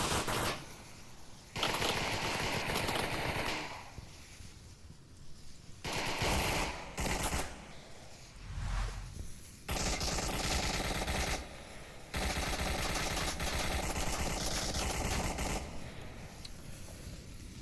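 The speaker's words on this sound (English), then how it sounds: "Shots are coming out, but they're not finding anything as Willow is defending the middle house" Rapid automatic gunfire from the Onward VR shooter in a competitive league match comes in long, dense bursts separated by brief quiet gaps, loud and close throughout.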